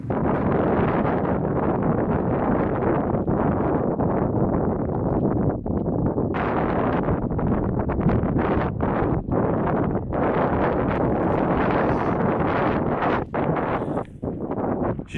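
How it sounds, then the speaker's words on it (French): Wind blows hard across a mountainside on Pico del Teide in Spain, a loud, continuous roar of buffeting gusts on the microphone that briefly drops out in places toward the end. "quand il y a un petit peu de vent comme ça il fait très vite froid"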